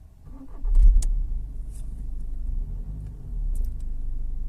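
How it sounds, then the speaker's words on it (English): A VW Passat engine cranks and fires up with a loud burst near the start, then settles into a steady, close idle rumble. A few faint beeps sound over the engine. "Start the vehicle."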